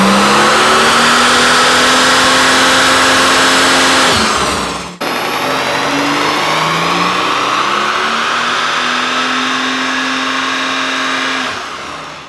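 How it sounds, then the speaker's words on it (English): A straight-piped RennTech-tuned Mercedes S65 AMG coupe revs hard on dyno rollers, its loud sustained engine roar climbing in pitch, dropping briefly near five seconds, then surging again and holding steady before fading at the end. "we are spinning these tires on the rollers, so this thing is putting out so much torque that we're basically kind of like doing a burnout on the rollers"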